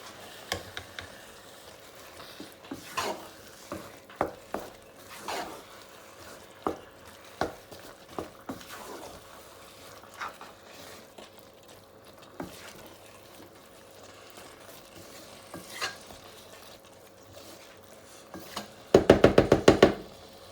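A spoon stirs a thick okra and tomato sauce in a pot, giving soft scattered scrapes and taps at a quiet, uneven pace, with a louder clatter at the end.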